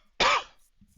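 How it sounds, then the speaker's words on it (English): A single sharp cough, close and loud, that quickly trails off, followed by quiet. "What the fuck is wrong with your coughing?"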